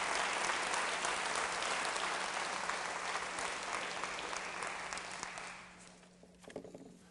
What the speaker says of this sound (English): give all of the young people who joined us this evening a round of applause